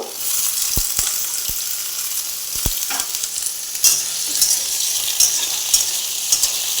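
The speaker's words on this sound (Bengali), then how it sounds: "একটু কালো জিরে দিলাম, তাতে আলুটা দিয়ে ভাজবো।" Potatoes frying with black cumin in a pan while cooking pumpkin curry, a steady close sizzle with a few sharp clicks and stirring scrapes, no voices.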